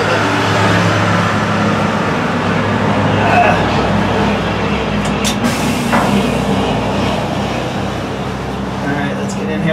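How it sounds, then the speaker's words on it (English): Loud, continuous roadway traffic roars beside an outdoor spot where a vehicle is being worked on. Passing vehicles rumble heavily and without a break, and a voice comes through now and then. "So much traffic noise"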